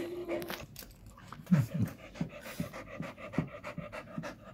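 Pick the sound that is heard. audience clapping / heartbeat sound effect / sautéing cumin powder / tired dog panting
tired dog panting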